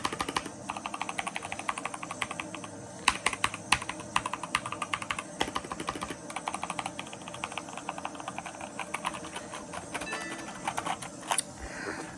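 Someone types steadily and quickly on an Azio gaming keyboard nearby, its keys giving dense, clicky clatter over a faint hum for the whole stretch.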